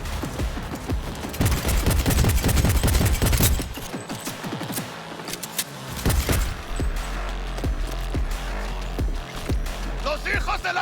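Heavy rapid gunfire in Cyberpunk 2077, with loud automatic bursts up front, then scattered shots and impacts over background game sound and a voice talking.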